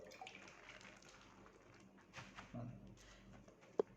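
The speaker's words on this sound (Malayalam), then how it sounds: "അത് കഴിഞ്ഞ് ഒരു ചെറുതായിട്ടൊന്ന് വെള്ളം തളിച്ചു കൊടുക്കുക" Water lightly sprinkled over bean sprouts covered with a tissue, heard as faint, soft splashing and dribbling with a sharp click near the end.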